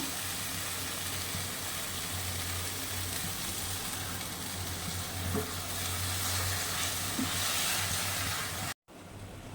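Taro leaves and prawns sizzle steadily in a pan with black and white mustard paste, a continuous close frying hiss with faint stirring, cutting off abruptly near the end.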